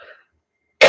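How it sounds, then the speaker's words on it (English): A single short, sharp cough close to the mic, preceded by a faint breathy sound and brief silence. "cough. All that dust, I guess."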